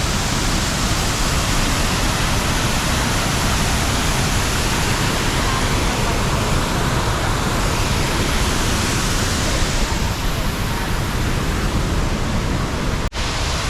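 Tangadan Falls in San Gabriel, La Union pours in a steady, loud, broadband roar of falling water that fills the whole stretch without a break, close and constant.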